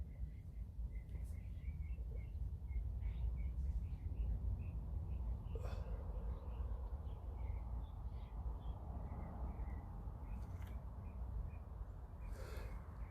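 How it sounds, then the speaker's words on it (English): Small, bright bird calls repeat now and then over a steady outdoor rumble, fairly faint, with a few louder squawks between them. "What a beautiful bird song."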